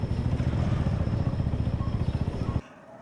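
Motorcycle ridden up and parked in a village near Multan, its engine chugging loudly and close with a rapid pulsing beat before cutting off abruptly, leaving quiet.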